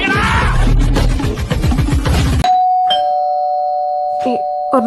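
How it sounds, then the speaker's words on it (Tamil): A home doorbell chimes in a sustained electronic tone that follows a burst of loud speech and music, then rings again briefly near the end, close and clear, with short vocal sounds between rings. "காலிங் பெல் அடிக்கிறாங்க"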